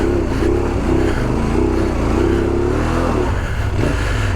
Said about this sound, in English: Just give it more revs.